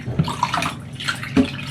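A little water is poured onto pork liver slices dusted with flour and salt, giving a short, soft, close splashing trickle in small bursts.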